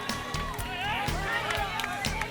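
A roadside crowd on the Berendries climb during the 1995 Tour of Flanders road race shouts and cheers for Johan Museeuw. The crowd noise is loud and continuous, mixed with overlapping voices and a commentator talking over it.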